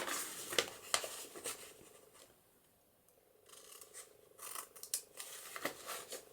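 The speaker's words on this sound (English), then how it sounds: "And cut that off there" Scissors snip through pattern paper during envelope papercraft, a run of crisp close cuts, then a short quiet pause, then more snipping with light paper rustle.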